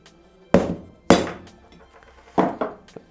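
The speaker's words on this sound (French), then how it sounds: "Pour sortir le joint spi côté allumage, je prends une douille avec sa rallonge" A mallet striking a socket on an extension to drive out the ignition-side crankshaft oil seal of a Peugeot Booster / Nitro 50cc scooter engine: five sharp, close metallic knocks in uneven rhythm, with quiet pauses between them.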